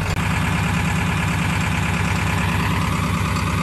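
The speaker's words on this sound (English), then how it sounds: "But first, let's check out high idle." A truck engine running at high idle, a steady, loud, continuous drone with a regular low pulsing throb and no talk over it.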